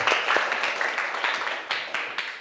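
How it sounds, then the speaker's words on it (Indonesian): Students in a junior high school classroom clapping for classmates, a moderate patter of uneven individual claps with distinct sharp hits, fairly close and fading slightly. "Tepuk tangan lagi buat mereka."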